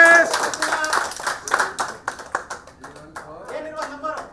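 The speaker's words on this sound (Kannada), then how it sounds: "ಬಾಕ್ಸ್ ನಂಬರ್ 4 ಅಲ್ಲಿ ಲಾಸ್ಟ್ ಚಪ್ಪಾಳೆ ಹೊಡಿರಿ." An audience at a bumper lucky draw claps in a scattered burst of sharp hand claps that thins out over a few seconds, with a voice talking over the applause.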